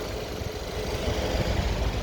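A 2014 Mercedes E63 4matic with about 115,000 km idles with a steady, loud engine rumble that runs continuously and evenly, close by, with no talking over it.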